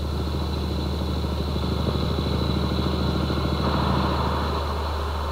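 A 1970s motorcycle ridden by an MP through London traffic, its engine a steady, close mid-pitched drone that holds for several seconds with a light mechanical clatter and no voices.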